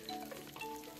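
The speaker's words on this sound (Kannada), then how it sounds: "ಕೊಬ್ಬರಿ ಎಣ್ಣೆ ಸ್ವಲ್ಪ ಸಾಸಿವೆ ಸ್ವಲ್ಪ ಜೀರಿಗೆ ಕರ್ಬೇವಿನ ಸೊಪ್ಪು ಹಾಕ್ಕೊಳ್ತಾ ಇದ್ದೀನಿ" Mustard seeds, cumin and curry leaves sizzle and crackle in hot coconut oil for a tempering, a steady close frying hiss with small pops.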